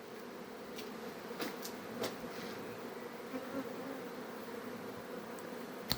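Chestnut honey bees buzzing in a steady low drone, with a few sharper, aggressive close passes flitting by over quiet outdoor background.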